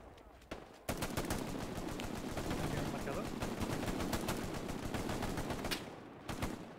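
Sustained gunfire in the World War II shooter Hell Let Loose, with rapid machine-gun bursts and scattered rifle shots running almost continuously at steady loudness, under occasional voices.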